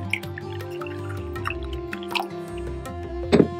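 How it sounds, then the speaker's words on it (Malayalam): A quarter cup of lukewarm water poured into a cup holding yeast and sugar, giving close, wet dripping and trickling sounds that end in a brief louder splash. "ഇതിലേക്ക് ഞാൻ 1/4 കപ്പ് ലൂക്ക്വാം വാട്ടർ ആണ് അത് ഒഴിച്ച്"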